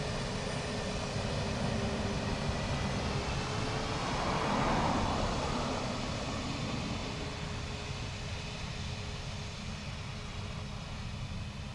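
A passenger airplane arriving at Dublin Airport from Heathrow, heard as a steady broadband jet roar with a low engine drone that swells slightly near the middle, then holds at a constant distant level.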